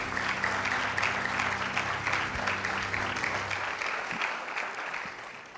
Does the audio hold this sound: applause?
yes